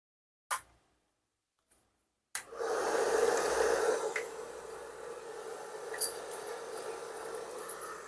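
A hair dryer used for cat grooming starts up after a couple of faint clicks and blows steadily with a broad, even whoosh for several seconds, close and fairly loud, with a small rattle near the end.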